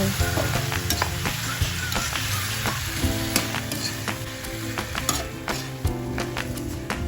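Chicken pieces sizzling with four tomatoes in a hot pan, a dense continuous crackle broken by sharp spatters and the scrape of a utensil stirring, no talking.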